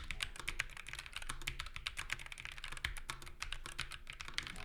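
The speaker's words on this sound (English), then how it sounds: "typing with these keycaps actually sounds pretty good" Continuous close-up typing on Nufy low-profile keyboard keycaps in a plastic case, a dense, steady clatter of crisp keystrokes with no speech.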